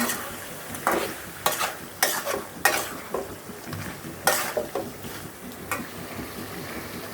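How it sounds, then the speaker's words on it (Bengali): Biryani is stirred with salt in a pot, a series of distinct scraping strokes against the metal in an irregular rhythm, close and moderately loud, over a low background sizzle. "ভালো করে মিশিয়ে নিচ্ছি"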